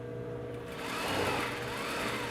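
A sewing machine stitches a pair of pants while a double welt pocket is made, running in a close steady whir that swells slightly midway.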